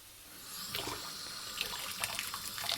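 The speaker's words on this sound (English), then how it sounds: "There's one down on the floor. I'll rinse it off." Tap water runs steadily into a sink while a fallen mushroom is rinsed off, a continuous close splashing stream with a few small spatters, no talking.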